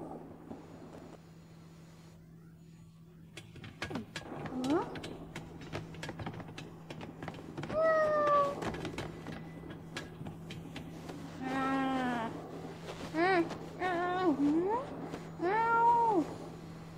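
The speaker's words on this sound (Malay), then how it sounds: "Kucing?" A cat meows several times in a row, clear drawn-out calls with rising and falling pitch over a steady low hum, the meows growing closer and more insistent toward the end.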